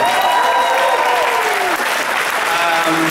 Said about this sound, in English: I wanted more of a round of applause from that, come on.